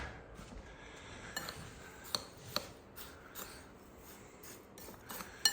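A spoon stirs lemon pie filling in a bowl, making soft scraping swishes punctuated by several light clinks of metal against the bowl, close and fairly quiet.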